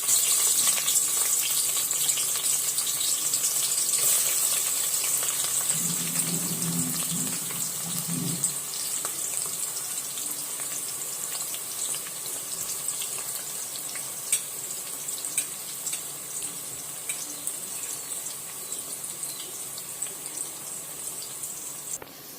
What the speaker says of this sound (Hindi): तो उसमें हम प्याज डाल देते हैं।